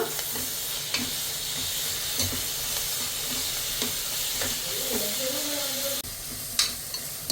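A ground paste of ginger, garlic and small onions fries in a pan for spicy goat head gravy. It makes a steady, fairly loud sizzle with occasional stirring scrapes and clinks.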